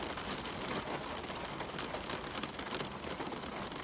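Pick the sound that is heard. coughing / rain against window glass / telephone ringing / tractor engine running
rain against window glass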